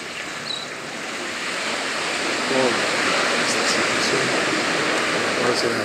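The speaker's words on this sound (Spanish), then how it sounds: "Disfrutando el mar tranquilo." Calm sea waves wash onto a clean beach at Acapulco, Guerrero, Mexico at sunset, a steady broad surf hiss with soft swells, while faint voices murmur in the background.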